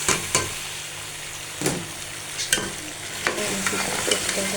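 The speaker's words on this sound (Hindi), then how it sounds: "फ्राई करके फिर हम डाल देंगे आलू मटर सब्ज़ी।" Potatoes and peas fry in a pan for a home-style aloo matar chicken curry, a steady sizzle broken by several sharp scrapes and knocks as the vegetables are stirred, close and fairly loud with no talking.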